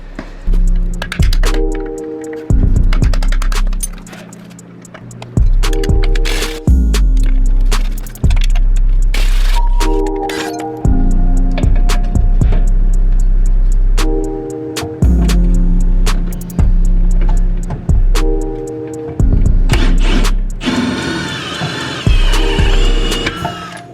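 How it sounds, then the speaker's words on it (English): Rear suspension of a VW Golf R being taken apart to pull out the spring, with loud metallic clanks, ratcheting and whirring bursts of a power tool in repeated close-up segments. "So we're about to disassemble the rear and all we have to do back here is pull the rear spring out."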